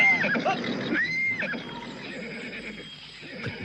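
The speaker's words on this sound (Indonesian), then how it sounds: "Kenapa kuda tidak mau bergerak maju? Hanya meringkik-ringkik saja." A horse whinnies loudly and close, with shrill wavering cries, then shorter snorting neighs trail off over background noise.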